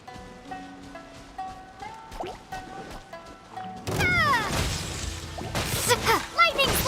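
A lightning slash attack in Genshin Impact lands partway through, a sudden burst of sharp crackling whooshes and impact hits over game music, then continuing in loud bright bursts with a voice speaking earlier.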